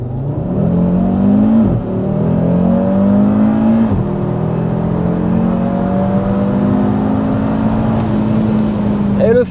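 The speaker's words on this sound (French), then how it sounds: "on va faire une petite accélération, vérifier le 0 à 100, c'est parti" A Cupra Formentor VZ5 with a five-cylinder engine accelerates hard from 0 to 100 km/h, its loud, continuous engine note climbing in pitch, dipping briefly at two gear changes and then climbing again, close and alone.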